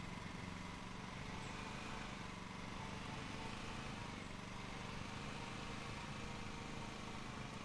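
Lawn mower engine in the Lawn Mowing Simulator video game, running steadily with a continuous mid-pitched drone and no clear rise in pitch, dense and constant throughout with no talking.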